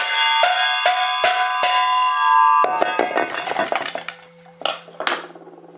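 Stainless steel clanks and rings several times, bright resonant strikes that overlap into a jangling clatter before settling into a lingering hum.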